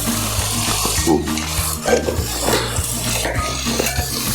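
Water drains off boiled tapioca in a home kitchen as it is cooked village-style alongside pork, a steady pouring wash mixed with clinks and knocks of pots and utensils, close and continuous.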